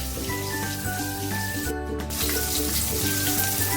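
Pieces of rohu fish fry in hot oil in a kitchen pan, giving a continuous soft sizzle over a steady low hum, with no talking.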